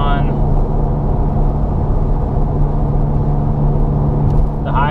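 A Volkswagen MK7 with a center-exit exhaust cruises on the highway in 6th gear at about 67 mph, a steady, loud low drone and rumble that holds without a break, with a brief higher whine at the start and end.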